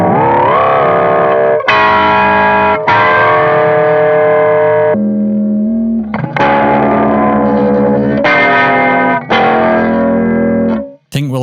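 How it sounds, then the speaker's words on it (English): Electric guitar run through a Cubase ring modulator, giving a harsh, metallic, distorted tone as several sustained chords ring out in turn with short breaks between them, loud and alone. "I did try using the ring mod in Cubase, but wherever I set it, it just sounded like demonically awful"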